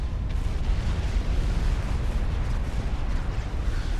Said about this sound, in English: Just look at all these tactical missiles.